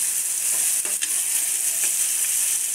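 Turmeric spooned into hot oil gives a constant bright, hissing sizzle with a few faint scraping stir clicks, close and fairly loud, with no voices.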